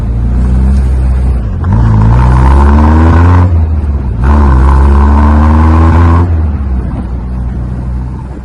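The engine of a 1979 MG Midget sports car runs close and loud as the car turns on full steering lock. Its steady hum rises and falls in pitch over two sustained stretches.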